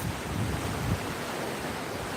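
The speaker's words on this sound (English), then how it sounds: "Got some nice little waves happening." Small ocean waves break on a beach in a continuous, rushing wash of surf, with wind buffeting the microphone, steady and fairly loud throughout with no voices.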